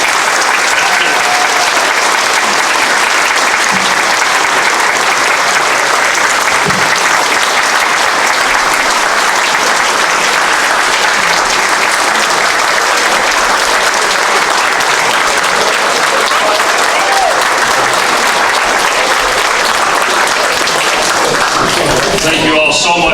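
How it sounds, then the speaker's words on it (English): A loud, sustained round of applause fills a county fiscal court meeting room, dense steady clapping from the crowd lasting over twenty seconds and tapering near the end. "Big round of applause."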